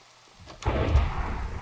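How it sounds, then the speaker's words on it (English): Thunderstorm in the video game Minecraft: a quiet patter of rain, then a sudden loud rolling thunder crash that swells and keeps rumbling to the end. "It is a thunderstorm."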